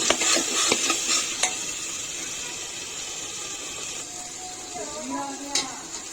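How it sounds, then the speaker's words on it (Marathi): Ground masala paste frying in oil, a close crackling sizzle with a few clinks of the spatula against the pan early on, fading to a softer steady fry. "वाटण फ्राय झालेलं आहे।"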